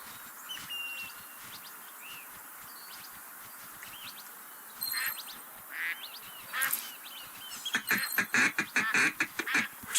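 Ducks quacking and geese honking in the Duck Dynasty hunting video game, a steady outdoor ambience with scattered calls that grow louder and more frequent toward the end, ending in a rapid burst of close quacks.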